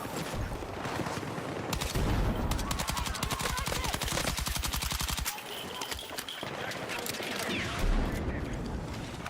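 SL9 rifle gunfire in Battlefield 6 rattles in fast, steady automatic bursts, loud and close, with a short pause midway before firing resumes. A voice talks over it at times.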